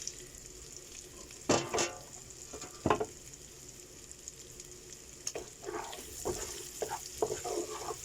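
Chopped vegetables go into a pan of frying chicken gizzards with ginger, a faint steady sizzle broken by a few sharp stirring scrapes and clatters, growing busier toward the end.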